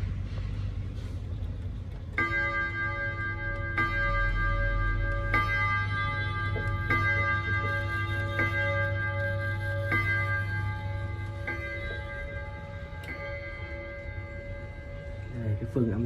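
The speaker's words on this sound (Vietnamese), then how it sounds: "bây giờ thì em sẽ cho các bác nghe tiếng chuông của chiếc đồng hồ này" An Odo wall clock with a single gong strikes repeatedly, each warm, ringing chime spaced about one and a half seconds apart and decaying over a low steady hum, with faint ticking beneath.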